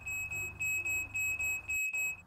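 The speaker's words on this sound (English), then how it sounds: "the alarm clock in the morning to wake them up" An alarm clock beeps in rapid repeated bursts, a steady high-pitched electronic tone pulsing on and off, close and fairly loud over a low hum.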